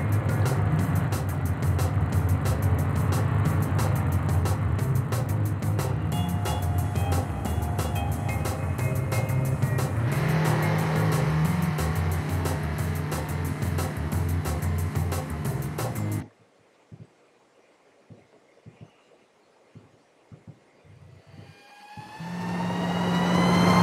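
Race cars roar in the LEGO Drome Racers video game as a loud, continuous engine whine and rumble that cuts off abruptly into near silence with faint clicks, then the game sound swells back at the end.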